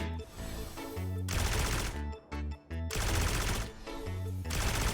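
Bursts of rapid gunfire in the mobile space-survival game Auroria: A Playful Journey rattle loudly, broken by short pauses, then resume in long sustained volleys.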